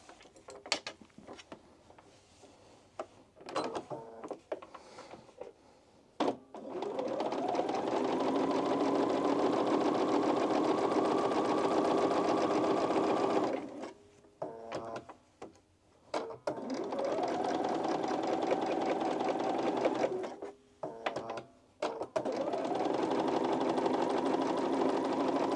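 Sewing machine stitching an oversized blazer during a plus-size sewing session, with three long runs of steady mechanical whirring, each speeding up at the start, separated by pauses filled with clicks and handling noises.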